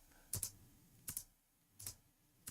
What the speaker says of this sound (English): Space bar does that, right?